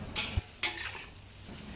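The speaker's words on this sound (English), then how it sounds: "Continue stir-frying the egg and rice and break up the lumps of rice with the wok" Two sharp metal scrapes of a spatula against a wok over a steady sizzle of egg and rice in Japanese garlic fried rice, close up, followed by softer stirring.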